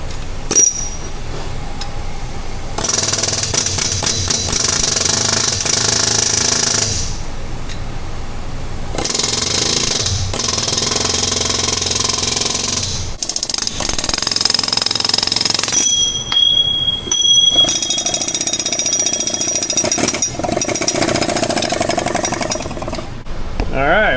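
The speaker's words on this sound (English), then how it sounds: "we're gonna have to get the air tool out. It's not coming right out. Air chisel." An air chisel hammers on the rear axle of a Ram 1500 truck in loud, close bursts of rapid pounding that stop and start several times, with someone speaking between them.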